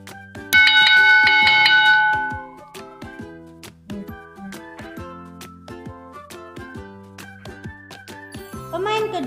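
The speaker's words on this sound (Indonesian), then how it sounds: "bel berbunyi" A bell rings to mark the next player's turn in a mental arithmetic league game, a bright tinkling chime loud at the start, then fainter repeated dings and tones with no talking.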